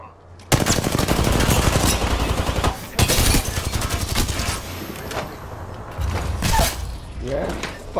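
Rapid automatic gunfire from the Apex Legends video game, loud and sustained bursts with brief pauses between volleys, mechanical clicks and rattles mixed in.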